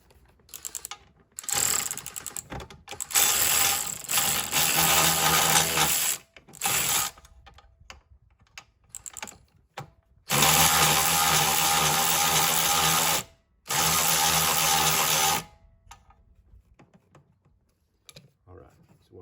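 Ratchet tightening a bolt on a seat during a seat cover replacement, heard in several long bursts of rapid mechanical clicking, loud and close, separated by pauses and quiet handling noises.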